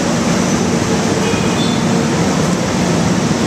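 An MRT train at a Manila metro station gives off a steady, loud rumble and hiss that fills the space without a break.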